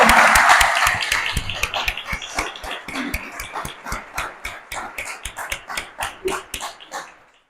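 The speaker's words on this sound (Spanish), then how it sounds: "ya que les pido un aplauso" Audience applauding a cellist at a book presentation in Madrid, dense clapping at first that thins into slower, distinct claps and fades out near the end.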